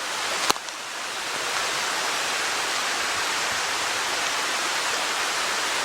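An orange, toxic-looking waterfall of polluted water gives a steady, dense rushing roar close by, with one brief click near the start and no talking.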